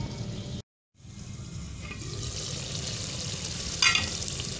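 Methi chicken simmering covered on a low flame, a steady close sizzle and bubble that runs on after a brief cut to silence near the start.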